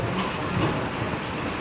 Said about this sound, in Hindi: बाहर तो देखो भाई, तेज़ वाली बारिश होना शुरू हो गई है।